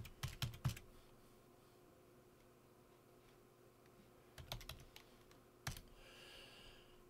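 A computer keyboard used to enter a password while setting up ham radio log uploads: a quick burst of several key clicks near the start, then a quiet pause, then two more short bursts of keystrokes close to the mic.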